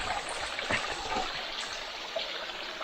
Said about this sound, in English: Cascading waterfall, obviously, it's not Niagara Fall.